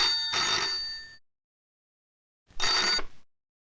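An old-style telephone bell rings in two loud, bright bursts, the first about a second long and the second shorter after a pause of silence.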